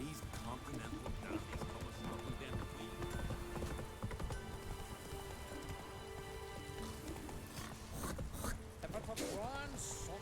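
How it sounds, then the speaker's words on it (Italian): Rapid clip-clop of horse hooves runs steadily over a busy soundscape in The Witcher 3, with a horse whinnying near the end. "Io odio sto cavallo."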